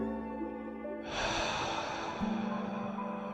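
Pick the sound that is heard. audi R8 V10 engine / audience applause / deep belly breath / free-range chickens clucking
deep belly breath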